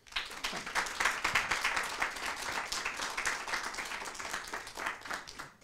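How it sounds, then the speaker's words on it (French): An audience applauds steadily at a book event with authors Christelle Dabos and Victor Dixen, a dense, even wash of many hands clapping that holds throughout and tapers slightly at the end. "On peut les applaudir."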